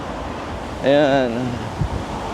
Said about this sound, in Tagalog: Ang lakas pa rin ng hangin, mga bossing.